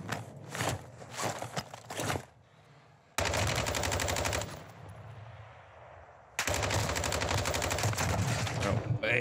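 Video game gunfire in a solo quads battle royale match: loud bursts of rapid automatic shots in two long volleys, with a quieter gap between them.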